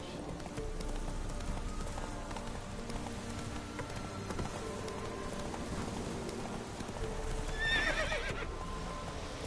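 Roach, the horse from Witcher 3, whinnies and clip-clops along at a steady gallop over a continuous game soundscape, with a sharp whinny near the end.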